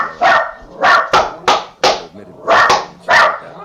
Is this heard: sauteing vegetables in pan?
no